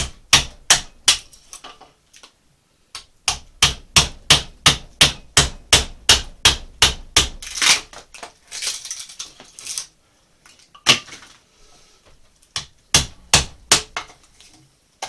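A chisel splits chunks off a wooden boat half hull in a series of sharp, close knocks, fast bursts of evenly spaced strikes broken by short pauses, with no talking.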